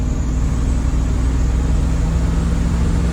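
A car engine with a rebuilt carburetor, running slightly rich, pulls under throttle with a steady, loud, close mechanical drone and low rumble throughout, with no talk.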